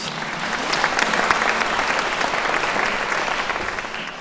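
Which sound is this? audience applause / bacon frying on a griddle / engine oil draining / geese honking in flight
audience applause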